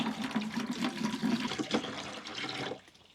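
Water pours and splashes into a container holding 20 grams of hydrogel, a continuous close rushing gurgle that tapers off near the end.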